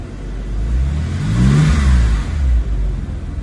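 A 2004 Porsche 911 4S engine revs up once to about 4,000 rpm in a smooth, loud climb, then drops back to a steady idle rumble, with no talking.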